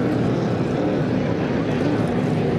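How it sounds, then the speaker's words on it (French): Vintage 4-litre class racing boat with a 225 cubic inch engine passing by at a regatta, a loud, steady, droning engine roar filling the whole stretch. "Il passe justement devant nous, là, le Speculation, très belle embarcation."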